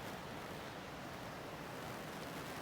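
Ocean surf at Pacific Beach, a soft, continuous wash of waves with a faint breezy hiss, steady and fairly quiet with no talking.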